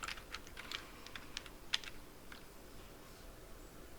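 Computer keyboard being typed on at a login prompt, giving quick irregular key clicks, faint and close, with a sharper tap midway and the typing thinning out toward the end, no voice.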